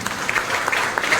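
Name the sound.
audience applause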